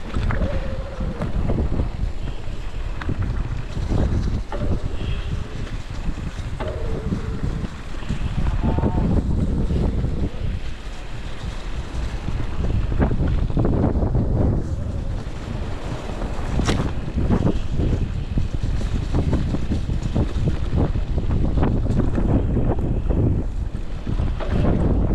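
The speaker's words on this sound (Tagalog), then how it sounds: "Napakasarap ng hangin" Steady wind roaring across the microphone with rushing water and waves around a moving boat, continuous and loud throughout.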